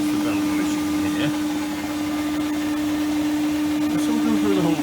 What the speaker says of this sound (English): That's the belt noise you can hear.